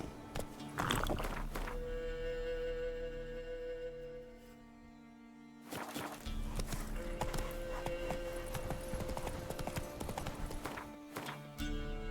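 Horse hooves clip-clopping under a rider in The Witcher 3, a steady rhythmic trot of close hoof strikes over game music, pausing briefly midway before resuming.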